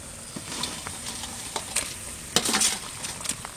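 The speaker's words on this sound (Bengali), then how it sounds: "এখন ভাজা মাছগুলো দিয়ে দেবো।" Fried boal fish pieces are added to a ready gravy in a pan, giving soft sizzling with scattered clinks and scrapes of a utensil against the pan.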